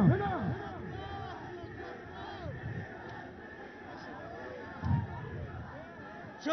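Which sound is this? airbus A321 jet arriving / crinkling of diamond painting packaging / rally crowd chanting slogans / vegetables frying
rally crowd chanting slogans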